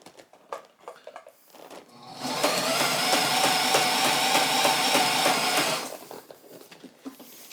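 An upholstery sewing machine stitches a rear seat bottom cover for a 1977 Camaro Z28, running in one loud, steady buzzing burst of about four seconds with quieter handling noises before and after.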